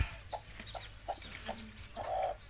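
Several chickens clucking in short repeated calls, fairly close, with a slightly louder squawk near the end over faint background noise.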